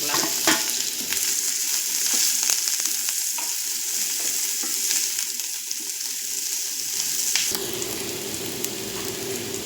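Chopped onion frying in a pan for chicken thuvaran, a loud, close, continuous crackling sizzle with scattered pops and a stirring clatter near the end; no one speaks.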